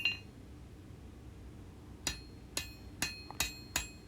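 A hand hammer strikes a knife blade on an anvil while forging a full-tang integral bolster blade, five or six sharp ringing blows with pauses between, the first one after two quiet seconds.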